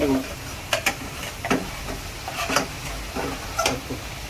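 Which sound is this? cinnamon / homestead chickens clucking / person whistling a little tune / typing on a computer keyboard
cinnamon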